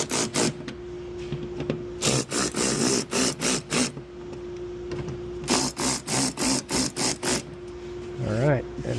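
Fasteners on a Toyota 4Runner Limited fender flare are tightened in quick bursts of rapid ratcheting or driver clicks, separated by short pauses, close up, over a faint steady hum, with a brief bit of voice near the end.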